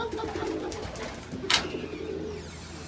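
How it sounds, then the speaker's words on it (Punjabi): Large pigeons coo in a loft at Brampton Pigeon Club, soft throaty cooing blended into a steady murmur of many birds, with one brief sharper flutter or call standing out. "ਇਹ ਵੱਡੇ ਕਬੂਤਰ ਆ"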